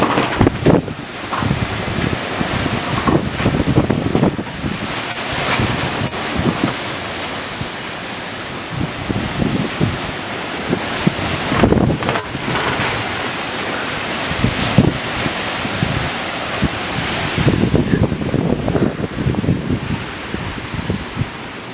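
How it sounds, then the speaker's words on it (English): Fierce wind gusts lashing over a choppy ocean, a roaring broadband rush that swells and surges in waves, with strong buffeting gusts hitting the microphone. "look at the lashing in the wind"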